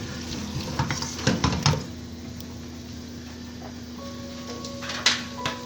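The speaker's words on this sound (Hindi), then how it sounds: "और इसके अंदर ये 2 टमाटर मैं डालूंगी और इसको मिक्स करूंगी मैं।" Chicken pieces and tomatoes being stirred together in a pot for haleem, soft scraping and clinking of the spoon with a faint sizzle and a low steady hum underneath.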